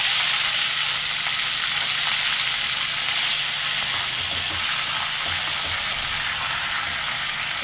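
Fish heads frying in hot oil in a pan, a steady close sizzle with bubbling crackle that runs throughout without a break.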